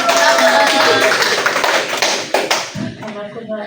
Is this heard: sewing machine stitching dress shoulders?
no